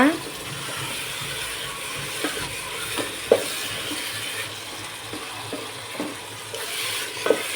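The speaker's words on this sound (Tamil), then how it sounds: "மசாலா நல்லா கலந்து விட்டுங்க" A spoon scrapes and stirs through thick masala in a sizzling pan while cooking prawn biryani, steady frying hiss with irregular clinks of metal on metal.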